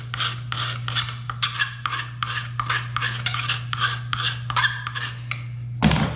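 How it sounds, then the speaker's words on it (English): A metal file rasps across the edge of a floor scraper in about a dozen steady, even strokes, close and loud over a constant low hum, ending with a brief clunk. "Give that a couple of strokes with the file, and I'm nice and sharp again."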